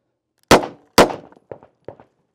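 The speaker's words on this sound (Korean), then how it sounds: "더블 탭을 한번 쏴 볼게요." Two quick, loud pistol shots fired as a double tap at a Chinese-made bulletproof plate, each a sharp crack with a metallic ring, followed by two fainter echoing knocks.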